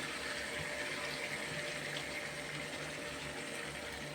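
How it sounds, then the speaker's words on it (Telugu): Water runs steadily into a cooking pot holding washed masala, a continuous, fairly soft trickling and pouring that stays even throughout, with no talking. "కొద్దిగానే పోస్తున్నాను, నీళ్ళు ఎక్కువ పోస్తలేదు."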